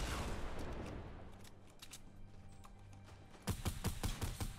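Faint gunfire from the video game Fortnite as a player fires blindly, with scattered shots at first, then a quick run of close sharp reports at the end.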